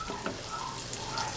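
Garlic goes into a hot pan for lamb kaldereta, giving a steady, soft sizzling hiss that carries on evenly without any talk.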